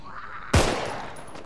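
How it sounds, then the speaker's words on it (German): A single sharp, loud gunshot cracks in the video game Contagion, preceded by quiet ambience and followed by a short decaying echo. "Hast du mich schießen gehört?"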